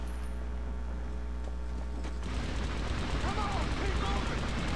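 Gunfire in the World War II shooter Medal of Honor Airborne, a dense rattle of shots and impacts building after a quieter start, loud and continuous.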